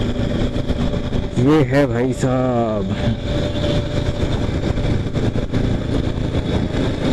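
A small Bajaj Platina H-Gear motorcycle engine runs steadily and close by, a continuous hum throughout, with someone talking over it.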